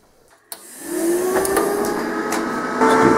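Argon shielding gas hisses steadily from a TIG welding torch fed by a nearly full bottle, starting abruptly and holding a constant, close rush with a faint rising tone beneath.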